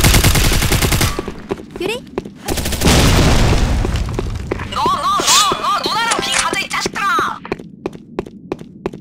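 Grenade blast and automatic gunfire in the online shooter Sudden Attack, a loud burst of firing followed by a heavy explosion, then ringing and scattered shots under a voice.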